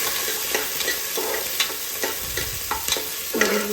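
Green chillies, garlic and ginger frying in a pan, a constant oily sizzle with repeated spoon stirring scrapes at a steady rhythm, close and fairly loud, with no talking.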